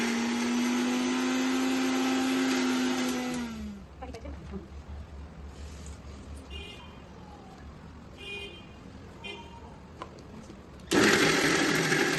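Mixer grinder blending fresh coconut, tomato, coriander, Shankeshwari red chili, onion and ginger-garlic into a paste: a loud motor whine runs for about four seconds, winds down to quiet, then starts up again abruptly near the end.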